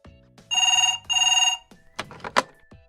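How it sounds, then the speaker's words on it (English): A telephone bell rings in two long, loud electronic bursts with a short gap between them, then the handset clatters as it is picked up in a hotel reception setting. "The phone!"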